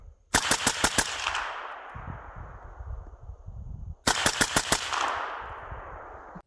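Palmetto State Armory AR10 rifle chambered in 6.5 Creedmoor fires two rapid strings of about five sharp, loud shots each, every burst trailing off into a long echoing decay at an outdoor range.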